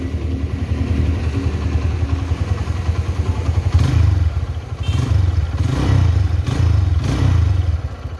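A 2011 Honda Tiger Revo motorcycle idles close by with a steady, chugging low rumble, and a few short throttle blips surge over the idle in the second half.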